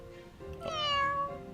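A cat from Fire Emblem: Three Houses gives one drawn-out meow, rising and then falling, clear and close over faint game background sound.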